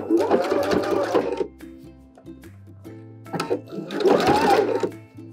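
A sewing machine fitted with a Teflon foot top-stitches a pocket onto vinyl in two brisk whirring runs, with short stop-start stitches between them and no talking.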